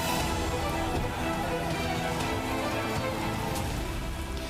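Heavy rain pouring down in Surat during a flood-like downpour, a dense, continuous roaring wash of falling water, steady and loud throughout with no pauses.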